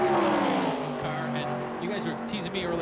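Race cars roar at Talladega during a 1995 ARCA 500K race, heard from inside Mike Wallace's car behind the Harris DeVane car, a steady engine drone running under a commentator's voice throughout.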